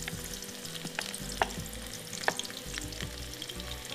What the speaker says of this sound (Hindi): अच्छा, अब मैं इसमें डाल रही हूँ बेटा चॉप्ड अनियन।